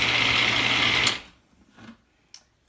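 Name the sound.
food mixer blending homemade salsa with lime juice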